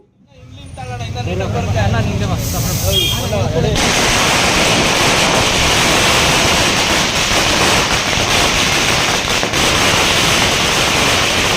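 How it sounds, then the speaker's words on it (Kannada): A long string of firecrackers bursts at a celebration for a political leader in the Dasarahalli constituency, a loud, dense, continuous crackle close by that runs for about ten seconds, with voices briefly at the start. "ಪಟಾಕಿ ಹೊಡಿತಾರ"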